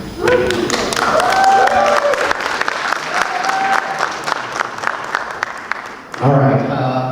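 A theater audience at a South Asian film festival applauds steadily, then the clapping tapers off and a voice begins speaking close by.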